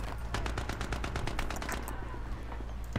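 A SCAR-H rifle firing in Battlefield 3 team deathmatch on Noshahr Canals: a rapid string of about a dozen close, punchy shots that runs for two seconds before fading into a noisy tail.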